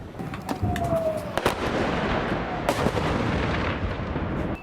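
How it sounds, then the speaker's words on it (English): Missile fire over the town of Sderot near the Gaza border, a series of sharp cracks and booms over a loud, continuous rumbling roar, with one faint whistling tone early on and no talking. "As we arrived in Sderot, close to the Gaza border, the town came under missile fire again."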